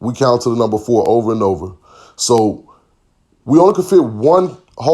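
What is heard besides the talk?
No everyday noises stand out.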